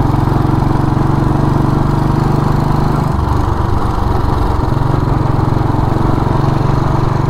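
A Royal Enfield single-cylinder cast iron engine runs steadily up close, a low rhythmic thumping drone that shifts slightly in pitch partway through, then settles back to an even idle-like beat.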